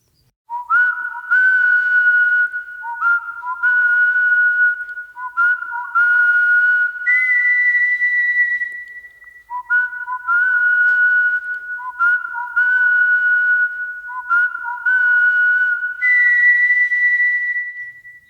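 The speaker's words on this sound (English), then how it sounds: "Whiskers whistled to the others about the change of plan so that they all knew what was happening." A whistled signal in a children's audiobook about squirrels: clear, loud, melodic phrases repeated steadily in short bursts, with no other sound around them.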